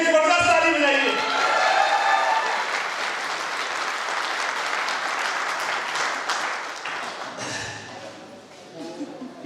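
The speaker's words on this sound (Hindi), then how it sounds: "जबरदस्त ताली बजाइए" Sustained audience applause at an event, loud and dense from the start, gradually thinning and fading toward the end, with a brief cheer or voice rising near the close.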